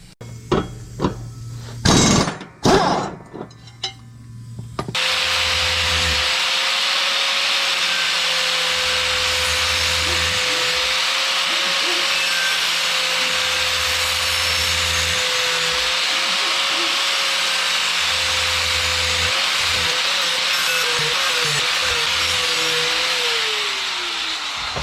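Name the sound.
sharpening a riding mower blade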